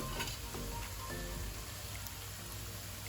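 Garlic frying in a pan for a Nepali potato and black-eyed bean curry, a quiet continuous crackling sizzle with faint scattered pops and no talking.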